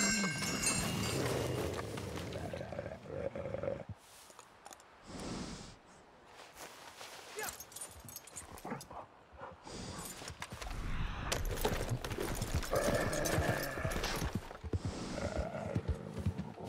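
A horse in a cowboy video game clip-clops along at a walking pace, hooves tapping in an uneven rhythm with occasional snorts, mixed with game ambience and a few quieter gaps.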